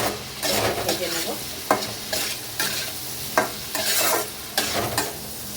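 Turmeric and chili powder fry in a pan for a potato and mourala fish curry while a spoon stirs them. Rhythmic scraping strokes repeat about twice a second over a constant close sizzle.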